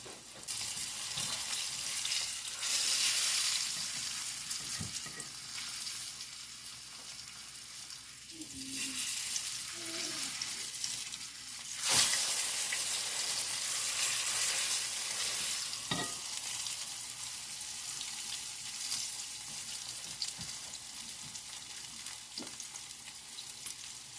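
Beef browns in an Instant Pot with a continuous close sizzle and crackle, broken by occasional sharp scrapes and knocks from stirring and a few soft squeaks, without talk.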